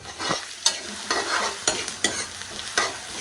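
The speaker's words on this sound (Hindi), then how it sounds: "कड़ी में लहसुन का तड़का बहुत ज़रूरी है।" Garlic sizzling in hot oil for a tempering, with a steady crackle broken by several sharp scrapes and stirring sounds, close and fairly quiet, with no talking.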